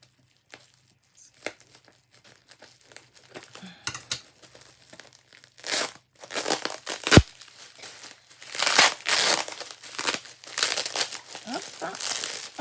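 Close crinkling and tearing as adhesive tape is pulled and peeled away in bursts, growing louder and more frequent toward the end.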